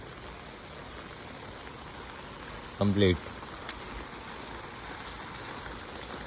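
Steady rain hisses throughout, with a brief voice speaking in the middle.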